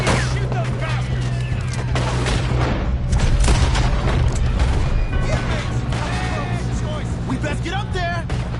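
Gunfire during a robbery shootout in Red Dead Redemption 2, loud repeated shots and booms cracking over a constant rumble, with people talking and shouting throughout.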